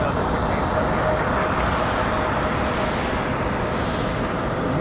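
A FedEx heavy cargo jet arriving to land at Raleigh-Durham airport, a loud, steady broadband jet roar filling the whole stretch, with a voice talking over it.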